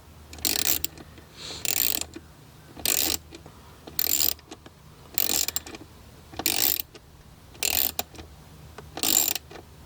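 Ratchet wrench tightening a fitting on a 2024 Mustang GT engine bay, about eight short bursts of rapid clicking in an even rhythm, close and fairly loud with no talking.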